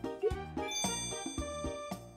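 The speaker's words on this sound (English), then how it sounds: "Ring my bell." Bell ringing in the video game Harvest Moon: Animal Parade, a run of bright metallic dings in a quick, regular pattern, clear and close with no talking.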